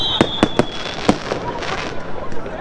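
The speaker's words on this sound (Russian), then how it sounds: "посмотреть такой шикарный салют с видом на море, на набережной" Sharp New Year fireworks bangs crack over the sea in an irregular series, echoing over a rumbling crowd murmur on the Yalta seafront in Crimea, loud and nearby at first, then more scattered.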